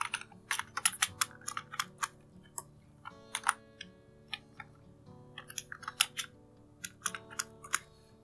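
Someone types on a computer keyboard, crisp close key clicks coming in quick irregular bursts with short pauses between, no talking.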